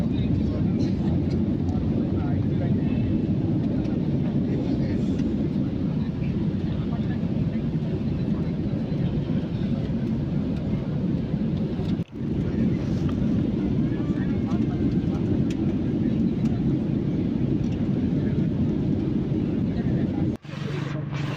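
Inside an airliner cabin during flight and landing at Kolkata, a steady loud engine and air roar fills the space, broken by two brief dips, with a voice talking over it.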